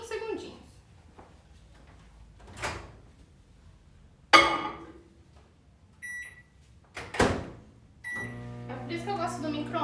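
A microwave oven warming ganache gives a short electronic beep and then a steady low hum that runs to the end, with a person talking over the kitchen sounds.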